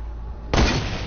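A single loud, close gunshot in an online shooter game cracks out suddenly after a stretch of low background noise, leaving a short booming tail.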